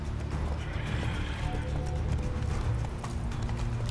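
In The Witcher 3, the horse Roach gallops with rapid rhythmic clip-clop hoofbeats and a whinny, moderately loud over a faint game background.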